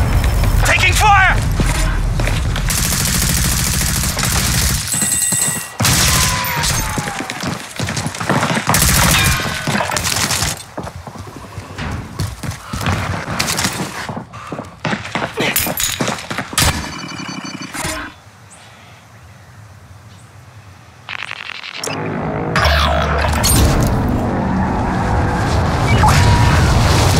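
Gunfire and booming explosions in Call of Duty Warzone during a Plunder match, loud and dense with irregular bursts, a quieter lull near the end, and voices talking over the combat.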